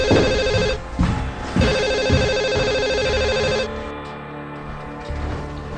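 A telephone rings with a bright electronic tone in repeated rhythmic bursts, loud and close with no voices, then fades to a quieter hum.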